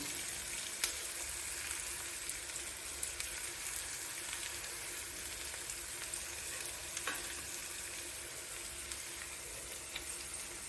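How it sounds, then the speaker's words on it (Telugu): Dried red chillies sizzle and crackle in hot oil in a pan while a raw plantain fry is cooked, a steady close frying hiss dotted with small pops and no one talking. "ఎండుమిర్చి వేస్తున్నానండి"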